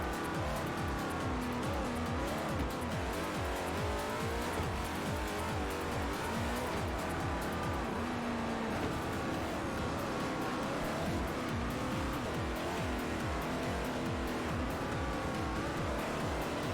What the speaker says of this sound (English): Beautiful sound this car is making here.